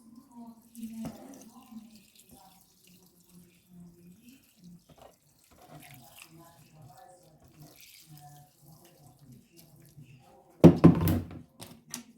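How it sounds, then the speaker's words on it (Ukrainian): Spring water runs from a tap and pours into a multicooker pressure cooker pot for pilaf, a brief loud gush near the end after quieter kitchen sounds and soft handling noises. "Заливаю джерельною водою."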